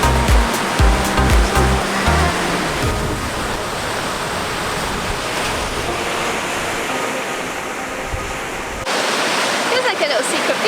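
Crashing surf at Little Beach in Western Australia, a continuous loud roar of breaking waves close by, with a brief voice and a few thumps at the start.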